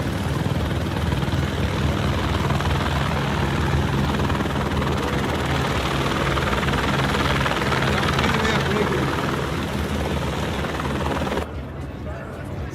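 A helicopter on scenic flights comes in to land, its loud, steady rotor and engine roar filling the scene continuously before cutting off abruptly near the end.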